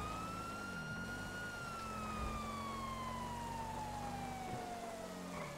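A police car siren in GTA V holds a steady wailing, long, slowly falling tone over a low engine drone, continuous and fairly loud without pause.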